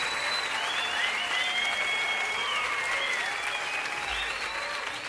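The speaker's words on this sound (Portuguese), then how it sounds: "Palmas para as meninas, para os meninos que estão aqui presentes." An audience applauds the children at a live Gilberto & Gilmar show, with dense, sustained clapping that carries on steadily over its whole length.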